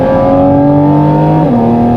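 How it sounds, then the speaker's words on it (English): Loud, close induction roar from a Porsche 718 GT4 RS Weissach engine accelerating, a steady high-pitched tone that climbs, then drops as a gear changes partway through, heard from inside the cabin. "now you have this crazy induction sound 30 centimeters behind your head"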